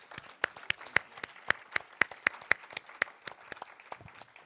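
An audience at a festival session in Boston claps to welcome a speaker, with sharp, fairly sparse hand claps in a loose steady rhythm and no voices over them.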